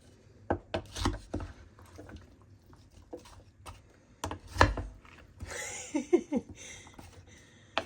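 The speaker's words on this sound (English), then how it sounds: "So now I'm going to mix it." Beef stew ingredients with onion soup mix and red wine being mixed by hand, giving irregular close wet squelches and clicks in short bursts with brief pauses between.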